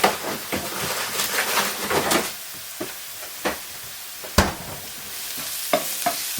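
Garlic cooks in butter and oil in a pan, a soft steady sizzle broken by sharp clacks of a spoon stirring and scraping. It sounds close and there is no talking.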